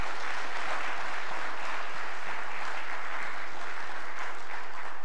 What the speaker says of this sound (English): Let's give our pastor another round of applause